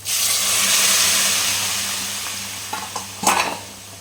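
Chickpeas and potatoes hit hot oil with spiced masala for ghugni, giving a loud steady sizzle that fades gradually, followed near the end by a few sharp scraping stirs of a spoon against the pan.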